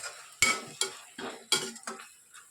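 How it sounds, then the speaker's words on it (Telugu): Tomato and sirraku leaf curry stirred in a pan with a metal spoon: a series of irregular scraping strokes and clinks, close and moderately quiet, with faint sizzling between them. "2 మినిట్స్కి ఒకసారి ఈ విధంగా ఒకసారి కలుపుతూ అడ్జస్ట్ చేసుకుంటూ ఉండాలి"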